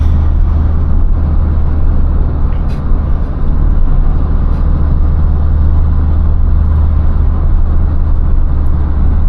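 A 2013 Opel Corsa diesel drives along Greek mountain roads, heard from inside the car as a loud, steady low engine drone and road rumble that continues unbroken.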